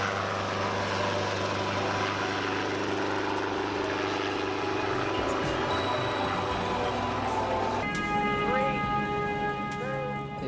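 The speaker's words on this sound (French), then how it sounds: "nous terminerons notre promenade en hélicoptère" A helicopter in flight over the Dampierre area, heard from inside the cabin as a steady, loud rotor and engine drone. The noise holds constant throughout, with a rising whine partway through.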